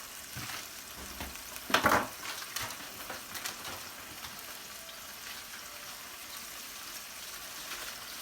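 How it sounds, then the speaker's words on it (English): Two tablespoons of butter melting in a big pot as the base for a homemade chicken pot pie filling, giving a soft, steady sizzle with one brief louder crackle early on and no talking. "we're going to need 2 tablespoons of butter. And we're going to melt it in this big pot."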